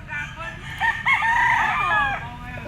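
A two-year-old yellow legged hatch gamefowl rooster crows once, a loud close drawn-out cock-a-doodle-doo over a faint background murmur.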